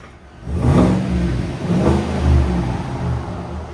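A 2026 Chevy Silverado Trail Boss 5.3L V8 with a Borla Touring cat-back exhaust revs twice, rising into a deep, throaty roar around 94 decibels before settling back to a rumbling idle, close by with no talking.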